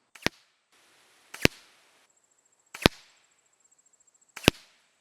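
Four sharp, loud crossbow shots from a TenPoint Turbo X at a 20-yard target, spaced about a second apart, each a crisp snap with a short ringing tail and quiet between, no talking.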